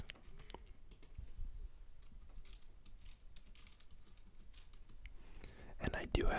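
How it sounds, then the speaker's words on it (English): Soft, uneven key clicks from a computer keyboard typed one-handed, a slow scattering of taps with brief pauses, close and quiet, with faint whispery breath sounds underneath. "So my typing is going to be a little slow"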